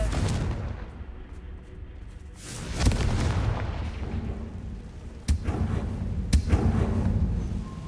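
The Confringo explosion spell goes off in the video game Hogwarts Legacy: heavy booming blasts over a continuous low rumble, with several sharp cracking hits spread across the clip.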